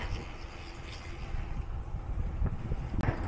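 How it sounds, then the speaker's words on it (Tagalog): Steady wind rushes across the microphone on a mountain climb, a broad continuous roar with low rumbling, faintly loud throughout and no voices. "Sobrang hangin, ah."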